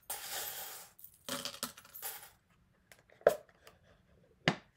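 Small metal charms tumble out of a charm box, producing a scatter of sharp clinks and rattling bursts spread over a few seconds, close and fairly quiet.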